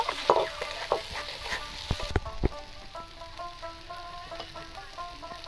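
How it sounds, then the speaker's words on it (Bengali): Spice paste for a Bengali Bombay duck (loitta fish) dish sizzles softly in a pan, with several sharp spatula scrapes and knocks early on before the frying settles into a quieter steady crackle. "আমি আরেকটু ভালোভাবে মশলাটাকে কষিয়ে নেব।"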